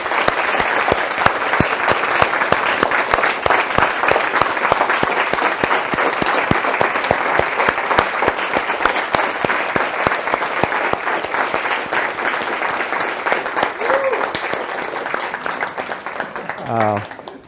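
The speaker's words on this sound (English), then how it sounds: "On behalf of everyone, maybe we give them a round of applause, particularly for Pierre and Erwan for the organization." A mathematics conference audience gives sustained, loud applause for the organizers, a dense, steady wash of many hands clapping that carries on for a long stretch before tapering off near the end.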